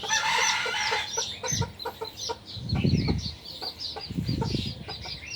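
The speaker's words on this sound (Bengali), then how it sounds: "আর একটা মুরগি ডিম পাড়তেছে" Desi naked-neck hens in a poultry shed cluck in quick, repeated bursts alongside brief higher calls, with occasional low rustling and thumping beneath, close by at moderate volume.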